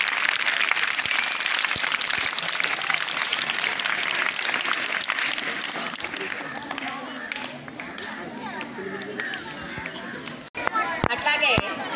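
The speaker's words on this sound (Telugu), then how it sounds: "చప్పట్లతో ధన్యవాదాలు చెప్తాం." An audience claps loudly to thank costumed performers at a flag-themed school event, the dense applause thinning out after several seconds as children's voices and chatter take over.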